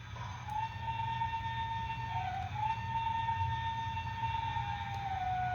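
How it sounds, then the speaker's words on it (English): A thin, synthetic-sounding locomotive whistle from a model train sound decoder, holding one steady tone for several seconds, briefly dipping in pitch midway, with a faint background hum. "their whistle sounds like a computer generated audio file like this"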